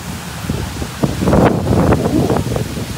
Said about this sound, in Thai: โอ้ลมแรงมากวันนี